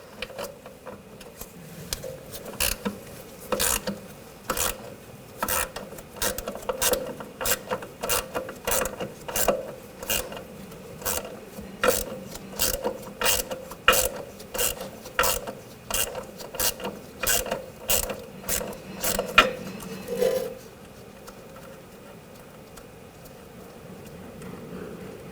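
A ratchet with a 10mm socket loosens a nut on the rear suspension of a 2000-2006 BMW X5, a long run of sharp close clicks in quick repeated strokes that stops abruptly near the end.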